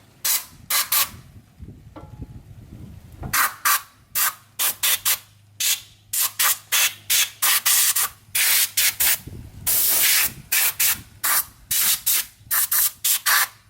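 Short repeated blasts of compressed air blow dust off the brake parts of a 2008 Ford Escape during a pad change, loud, close and broadband, in quick bursts with brief pauses and a faint hum underneath.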